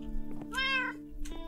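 Cat in the Minecraft video game giving a single clear meow in the middle, with quieter chirpy cat sounds before and after over a low steady background hum.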